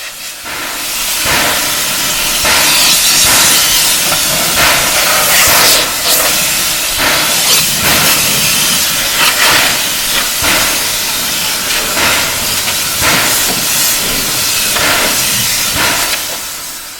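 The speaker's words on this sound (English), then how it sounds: "Steam seems to make a lot of racket." Steam hisses loudly and continuously from a steam locomotive on the Yosemite Mountain Sugar Pine Railroad during watering and maintenance, with surging bursts and rumbling underneath, close by and without talk.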